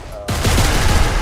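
Dense automatic gunfire bursts in Arma 3 during a military operation, a loud, close, continuous fusillade that erupts suddenly after a brief quiet moment and keeps going to the end.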